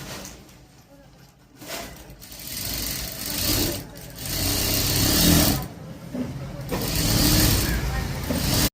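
A sewing machine stitches a strip of blouse fabric in bursts of fast, whirring runs, some short and some sustained, close by, with a voice heard at points between and over the stitching.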